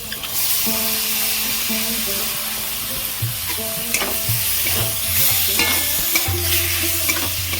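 Lote fish, also called Bombay duck, sizzles and spits as it fries in an oily pan, with a steady crackling hiss throughout and scattered sharper pops and scrapes.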